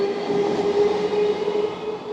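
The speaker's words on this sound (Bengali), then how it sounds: "ট্রেন এখন বেরিয়ে চলে যাচ্ছে তার নির্দিষ্ট গন্তব্যে" A train pulling out of Baruipara station near Kolkata, a steady close rumble of rolling carriages with a faint metallic wheel whine.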